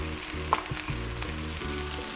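Onion and bell peppers fry in a little oil, making a continuous close sizzle with a brief scraping stir partway through and no talking.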